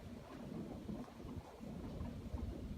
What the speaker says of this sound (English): it's hailing even worse now